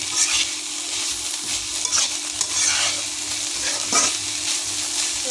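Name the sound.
stirring banana flower fry in a pan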